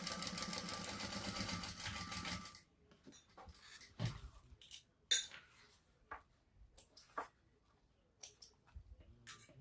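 A sewing machine stitches a shoulder bag seam in a fast, even mechanical run for about two and a half seconds, then stops, followed by scattered quiet clicks and handling knocks.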